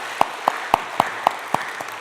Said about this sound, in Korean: 함께 격려의 박수 드리도록 하겠습니다.